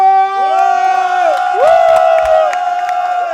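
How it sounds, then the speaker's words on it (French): Loud crowd noise for Grasso: steady cheering, whoops and excited shouts swell and surge throughout over a droning tonal backdrop. "Et du bruit pour Grasso."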